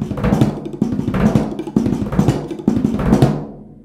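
A drum lick is played on practice pads at a faster tempo, four quick repeating phrases of dense, tight hits that end cleanly, loud and close with no talking.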